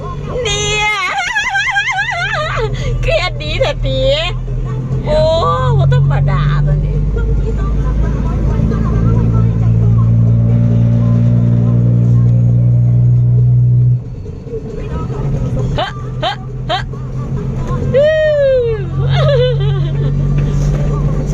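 A Thai iron-cart farm vehicle chugs along with a steady low engine rumble, and a person talks and sings loudly over it for most of the time.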